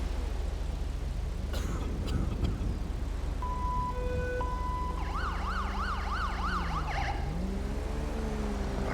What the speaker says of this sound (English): I can turn your sirens off.